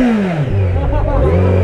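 A Royal Enfield Bullet motorcycle engine rumbles and revs up close while riding slowly through a crowded market, with a steady low thump and busy background noise.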